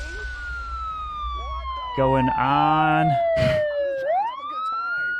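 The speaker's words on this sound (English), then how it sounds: "As we're hearing the sirens" Sirens wail as a clear tone sweeps steadily downward and then rises again, mixed with a harsher, buzzing siren burst in the middle, loud and close while a person talks briefly.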